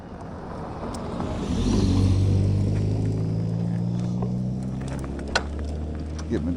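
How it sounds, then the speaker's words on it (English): A car approaches along a road while an e-bike rides, a low engine rumble swelling and holding steady as it draws near, heard over wind and road noise with a couple of small clicks near the end. "Sounds like a car coming."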